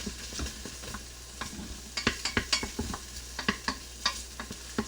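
Sausage fries in a pan, a steady sizzle under repeated scraping and stirring clatter as the meat is pushed around, close and fairly quiet, with no one talking.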